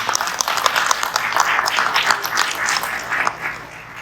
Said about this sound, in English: a clap for Virginia